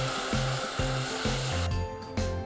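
A pan of curry sauce with tomato juice sizzles steadily while a spoon stirs it, scraping in a regular back-and-forth rhythm with a few louder knocks against the pan.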